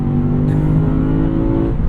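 Lexus IS500 V8 engine revving under hard acceleration from inside the cabin, a loud, steady, deep droning growl that holds its pitch without pause.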